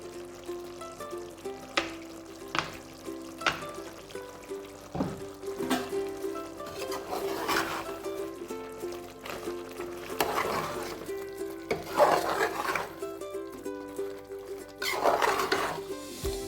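Chicken gravy being stirred in a pan with grated coconut, curry leaves, mint and coriander leaves, giving soft scraping and wet clinks of a spoon against the pan, steady and close, with no talking.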